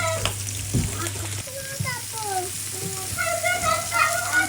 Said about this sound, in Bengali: বেগুনটা হালকা ভেজে নিচ্ছিলাম।